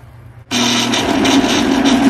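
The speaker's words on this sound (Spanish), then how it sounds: "Ya licuamos una taza." A kitchen blender suddenly starts up and roars loudly and steadily, close by, as it purées cooked hominy (mote) with water for Peruvian tamales.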